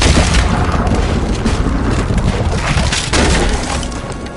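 Cannon fire in the video game Red Dead Redemption 2 lands as a loud, close, heavy boom that rumbles on with crackling debris, followed by a second blast near the three-second mark.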